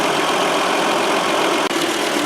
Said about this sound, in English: Okay, well, we have the engine heating up.